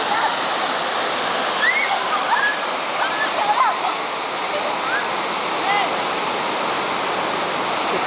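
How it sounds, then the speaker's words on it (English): Steady, loud rush of a popular tourist waterfall fed by a long stream of falls, a continuous broadband roar filling the whole clip, with faint voices and calls scattered over it. "The waterfalls all the way."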